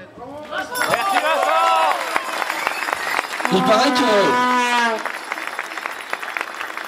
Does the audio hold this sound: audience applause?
yes